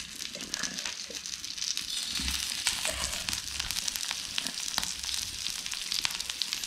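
Ginger-garlic paste, onion, coconut and a homemade village masala fry in a pan for Malvani chicken gravy, giving a steady, close crackling sizzle with fine crinkly pops throughout.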